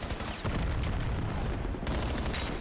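Grenade blasts in Call of Duty during a competitive CDL match, a dense continuous barrage of booming explosions and gunfire that stays loud throughout the short stretch.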